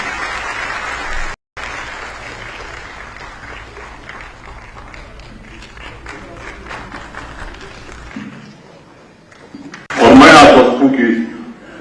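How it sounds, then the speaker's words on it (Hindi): Audience at a public gathering with a former MLC's son invited on stage: steady murmur and chatter for several seconds, then a loud, short burst of clapping near the end. "तालियां बहुत सारी"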